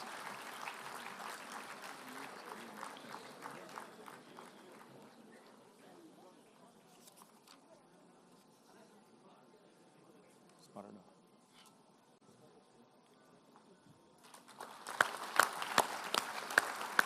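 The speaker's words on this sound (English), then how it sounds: "A loud round of applause, please, everybody" At a university convocation, an audience claps for a medal winner from the Executive MBA program. Faint, distant applause thins out under announcer talk and then swells louder again near the end.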